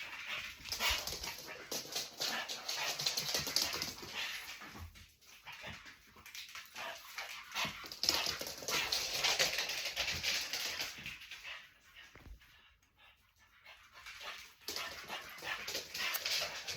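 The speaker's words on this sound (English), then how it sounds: "got a little bit of the dogs there" Dogs, one named Hunter, whimper and pant indoors at a house in a steady, close, fairly loud stream of whines and breaths that fades briefly midway, with no talking.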